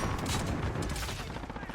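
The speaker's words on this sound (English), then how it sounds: "I'm getting shot from above." Dense, loud gunfire fills a Call of Duty Warzone match, with rapid overlapping shots and booms across the short stretch and no speech.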